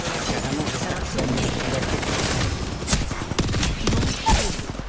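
Gunfire in the Apex Legends video game, a dense fusillade of rapid shots with bursts and a few louder impacts, continuous and close throughout.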